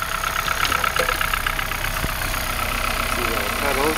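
An old manual-transmission car that had been sitting unused idles steadily after starting, a continuous close engine rumble with a slightly uneven, knocking texture throughout.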